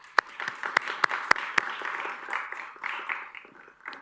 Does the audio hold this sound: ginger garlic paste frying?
no